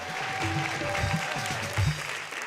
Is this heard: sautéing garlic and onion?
no